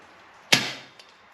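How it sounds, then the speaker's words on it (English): An air rifle pellet strikes a steel target at an outdoor range, giving one sharp metallic tink that rings and fades over about half a second, with a faint second tap just after. "That's the sound of a pellet hitting steel."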